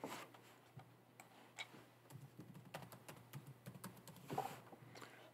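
Soft, fairly quiet typing on a computer keyboard, a run of irregular key taps over a low steady hum, with no speech.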